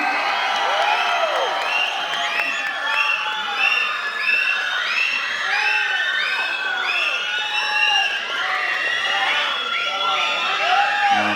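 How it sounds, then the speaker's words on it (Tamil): A large audience at the Garudan film audio launch cheers and whistles loudly as a speaker is called to the stage, with dense shouts and whoops that hold steady throughout. "நல்ல கைத்தட்டலோட நம்ம வீட்டு பிள்ளைனா எம்ஜிஆர், எங்கள் வீட்டு பிள்ளைனா வேறு யார், அண்ணன் எஸ்கே அவர்களை பேச அழைக்கிறோம்"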